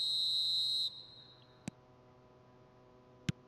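A referee's whistle in the eFootball video game blows one sustained, loud blast at kickoff, followed by quieter background crowd ambience and two brief sharp clicks.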